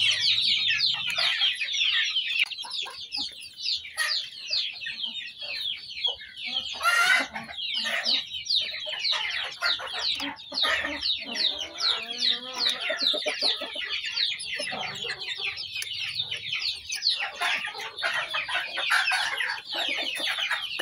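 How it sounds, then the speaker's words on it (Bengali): Young chicks, about fifteen to sixteen days old, peep and cheep continuously inside a cage on a poultry farm, a dense, high chorus of chirps heard close and alone with no voices. "মুরগির বাচ্চার বয়স হয়েছে 15 থেকে 16 দিন। খাঁচার ভিতরেই পানি আর খাবার দিয়ে রাখছি।"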